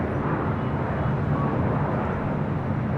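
A Singapore Airlines heavy jet airliner rumbles past at Los Angeles International Airport, its engines a steady, broad, loud roar with deep low-end drone and no break across the stretch.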